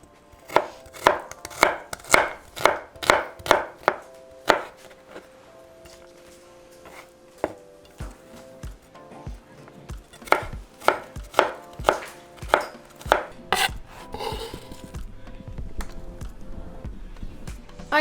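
Knife mincing garlic cloves on a cutting board, a fast run of sharp, evenly spaced chops, then a pause and a second, looser run, close and crisp with no one speaking.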